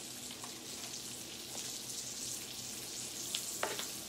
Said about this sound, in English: So I can really get in here and stir this around.